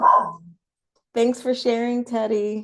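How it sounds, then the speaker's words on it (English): Dog barks several times in quick succession indoors, close and fairly loud, after a short spoken phrase and a pause. "Excuse my dog."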